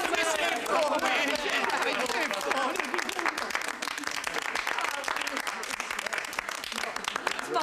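An audience applauding a performer who is thanked for it. Dense, sustained clapping fills the whole stretch with a murmur of crowd chatter mixed in.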